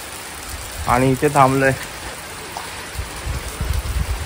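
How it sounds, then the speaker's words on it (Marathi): Soft steady rain patter in the background, with someone speaking briefly over it and the hiss continuing afterward, beside an under-construction house in a Konkan village. "हे बघा पाऊस चालू झाला, फटाफट आलो"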